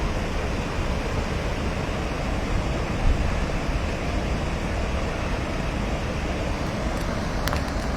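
Water gushing from two opened gates of the Dantiwada dam in Banaskantha, a steady, dense broadband roar that holds level throughout without pause.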